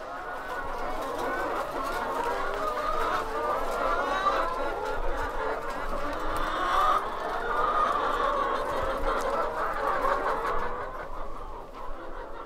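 A henhouse full of chickens on a remote Polynesian island, giving continuous overlapping clucks and calls from many birds close by, busy and fairly loud throughout.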